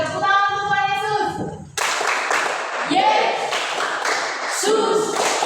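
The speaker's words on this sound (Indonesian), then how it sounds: "Tepuk tangan untuk Tuhan Yesus." A class claps hands together in rhythmic bursts during a school lesson, the claps loud and close, mixed with children's voices chanting.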